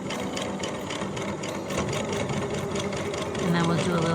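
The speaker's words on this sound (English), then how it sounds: "now what we're doing is we're sewing together the 2 pieces of print fabric" A sewing machine runs in a steady, fast rhythm of stitches as it joins two pieces of print fabric with a single stitch. The motor hums close by, and the whir rises slightly near the end.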